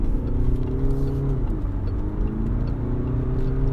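Peugeot 508 Allure with a 1.5 diesel engine, in sport mode, accelerates onto a road, heard from inside as a loud, steady engine drone whose pitch climbs, dips briefly at a gear change, then rises again.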